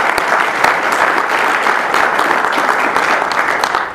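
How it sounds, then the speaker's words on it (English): A small audience claps steadily for a volunteer at a workshop on personal resilience for IT professionals. The applause is dense and sustained, fairly close and loud throughout, with no talk over it. "round of applause, man."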